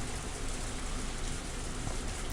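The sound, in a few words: rain, from the video game Higurashi When They Cry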